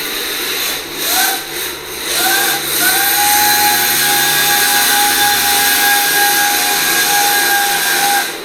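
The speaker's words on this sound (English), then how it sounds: "When you want to hit full throttle and you want to hit turbo, it gives you some turbo noises" A cheap Ruddog RP540 brushless drift motor runs at full throttle with turbo engaged. A rising electric whine swells in short bursts, then settles into a steady, sustained high-pitched scream that sounds close and loud.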